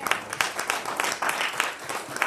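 Congregation clapping together during a church worship service, a dense burst of hand claps with scattered louder peaks filling a couple of seconds.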